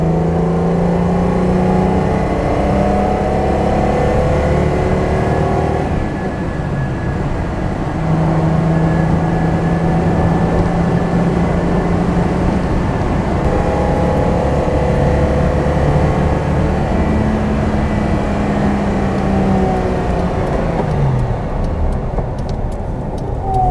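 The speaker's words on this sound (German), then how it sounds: "Der Motor ist fast ein bisschen zornig, kann man sagen, aber es steht im Charakter dieses Autos." A 1970 Mercedes 280 SL Pagode's engine drones steadily while driving, loud and close with a gruff, slightly angry tone, pitch rising and falling as it pulls through gears with no talk over it.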